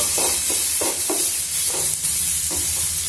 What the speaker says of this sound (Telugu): అంటే కొంచెము ఆనియన్ ముక్కల్ని కొంచెం వేయించుకున్నాము